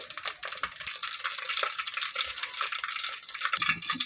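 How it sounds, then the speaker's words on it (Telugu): Green chillies frying in hot oil in a kadai give a dense, steady crackling sizzle, close and continuous, with the spatter swelling slightly toward the end. "ఆయిల్ హీట్ అయిన తర్వాత పచ్చిమిరపకాయలు వేసి వేయించుకోవాలి"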